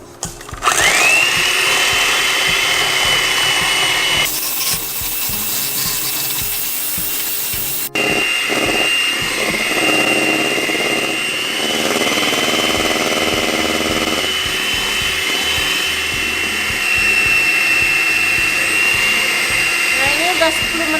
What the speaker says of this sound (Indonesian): Dikocok kira-kira 10-15 menit sampai betul-betul putih